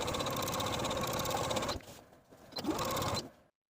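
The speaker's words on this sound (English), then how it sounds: "I'm going to take it to the sewing machine and edge stitch close to that inner folded edge all the way around the bottom of the dress" A sewing machine runs fast, edge stitching a hem around the bottom of a 1960s vintage dress, a steady whirring buzz that pauses briefly, restarts, then stops.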